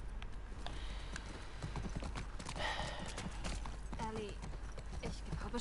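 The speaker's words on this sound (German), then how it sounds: "Ja, und unser Pferd kommt auch." A horse's hooves clip-clop steadily at walking pace in The Last of Us Part II, close and even, with a voice talking faintly alongside.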